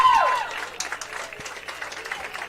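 Baseball fans in a cheering section at a Petaluma Express versus Sonoma Stompers game clap and cheer in a short burst of crowd applause, moderately loud and fading slightly.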